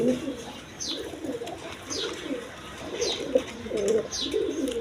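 Black-tailed Kaldom pigeons at a farm coo in a run of soft, low, throaty calls that keep going through the clip, with faint higher chirps repeating about once a second and a light background hum.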